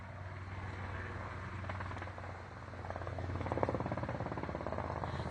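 A steady low rotor thrum with a fast pulsing beat, like a helicopter passing overhead, growing slightly louder toward the end.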